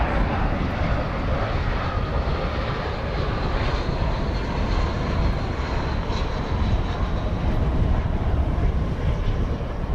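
Boeing 787-9 Dreamliner at DFW Airport, a steady broadband jet engine roar that stays loud and constant throughout, with no talk over it.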